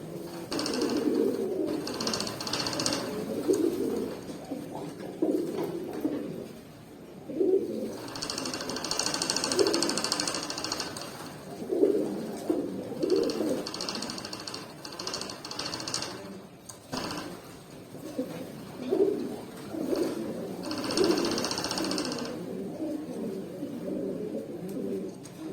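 Pigeons cooing close by in repeated soft, throaty bursts separated by short pauses, with faint rustling between calls and no voices.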